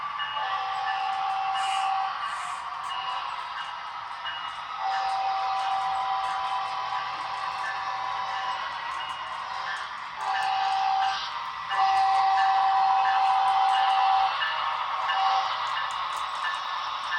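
Model train passing a Logic Rail Grade Crossing Pro, with steady alternating electronic crossing bell tones ringing in repeated stretches over a low rolling rumble of the locomotive, close and continuous.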